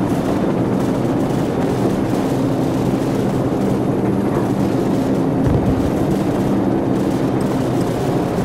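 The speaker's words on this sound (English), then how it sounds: "friendly helicopters entering the area" Helicopters droning overhead in Call of Duty 4, a loud, steady rotor rumble with wind-like noise that holds throughout.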